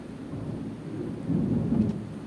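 A low, rumbling roll of thunder in Minecraft swells and fades, with a soft rain-like hiss underneath; no one speaks.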